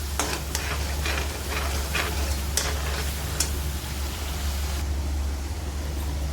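Grated tomatoes fry in a pan over asafoetida, a steady hiss with a low hum underneath, broken by sharp ticks and scrapes as the mixture is stirred.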